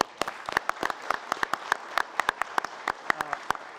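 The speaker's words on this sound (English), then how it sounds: "ask for a huge round of applause for those teams of professionals that put this together" Scattered hands clapping at a county commission meeting in honor of the finance team, distinct sharp claps in a steady uneven rhythm, fairly quiet and somewhat distant.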